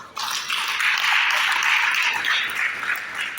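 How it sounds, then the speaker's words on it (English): An audience at a book launch breaks into applause. Dense, steady clapping starts abruptly and holds loud for a few seconds before easing slightly. "please, a resounding applause for Mr."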